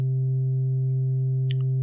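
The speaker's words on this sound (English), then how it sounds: "I patch the sine wave of this 1004p oscillator into the" A steady pure sine tone from a 1004p modular synth oscillator hums continuously at constant level, with a short faint click near the end.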